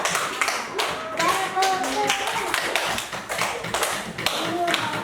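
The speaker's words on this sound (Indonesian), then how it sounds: "tepuk tangan dulu untuk kelompok" A classroom group claps for a team of pupils, a cluster of uneven, fairly close hand claps in bursts, with children's voices chattering underneath.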